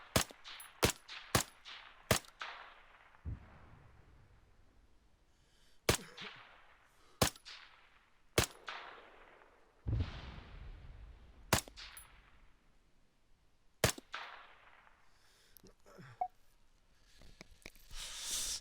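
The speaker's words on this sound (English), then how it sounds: "I am firing a lot of shots" M14 sniper rifle in ARMA 3 with RHS weapons, fired from a rock partway up a hill: roughly a dozen sharp, loud single shots at irregular intervals, each followed by a long rolling echo and decaying tail.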